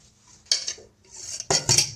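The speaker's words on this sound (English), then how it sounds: "now we're going to mix these together" A spoon clinks and scrapes against a bowl while banana muffin batter is mixed, in a few quick clattering bursts up close with short pauses between them.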